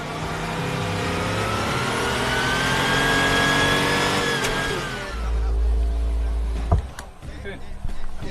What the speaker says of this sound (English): Porsche 930 that we recorded is the only car really that will be really sounding like the real car in the real world.